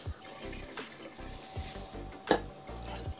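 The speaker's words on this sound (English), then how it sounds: "we're gonna put a little bit more water in there in actual fact" Water is poured into a cooking pot holding tomato and onion for a Jamaican beef rib roast and rice and peas dinner, a close splashing pour with clinks and drips over a steady kitchen hum.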